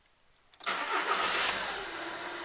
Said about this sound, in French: essayer de faire démarrer le véhicule